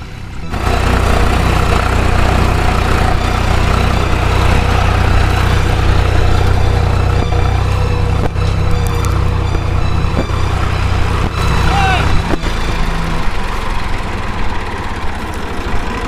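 A loud tractor engine idles nearby in a steady, low rumbling drone that runs unbroken throughout.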